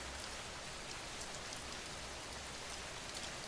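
Steady rain falls in a dense, even hiss of drops on a surface, soft and continuous with no voices or other sounds.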